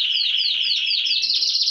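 Month-old young birds in an aviary chirp in a rapid, high-pitched repeated trill, close and loud, with no talking over it.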